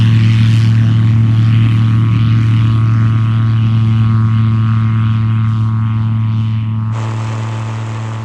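A taildragger airplane's propeller engine drones loudly and steadily at full power through a short-field takeoff run, its low harmonic hum constant before the pitch shifts slightly near the end.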